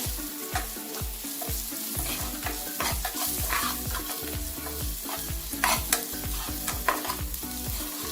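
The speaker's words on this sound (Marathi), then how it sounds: "मीठ टाकायचे चवीनुसार हे सर्व आता मिक्स करणार आहे आपण व्यवस्थित" Samosa filling with salt and spices being stirred in a pan, a continuous sizzle broken by rhythmic scraping and tapping strokes of the spoon, close and without speech.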